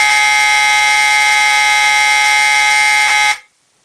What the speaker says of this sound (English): Before I sound the alarm, make sure volume is very low.